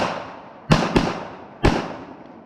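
Three sharp, loud shots from a Springfield 1911 pistol at an outdoor range: two close together, then a third after a short pause, each with a booming report and a long fading echo.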